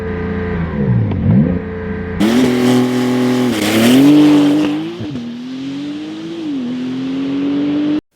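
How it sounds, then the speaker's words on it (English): A Porsche 911 Turbo S revs hard at standstill on launch control, then launches with a loud roar, climbing through gears with brief shift dips as it speeds away. "no test of a 911 Turbo S would be complete without at least one launch control start."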